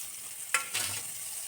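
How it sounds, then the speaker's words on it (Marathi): Soaked and squeezed soybean chunks are stirred in hot oil in a kadai, giving a quiet steady sizzle with a couple of brief louder scraping bursts as they are turned. "आता याच्यामध्ये मी तेल टाकलं आहे कढईमध्ये, आणि गोळ्या छान परतून घ्यायच्यात आपल्याला सोयाबीनच्या."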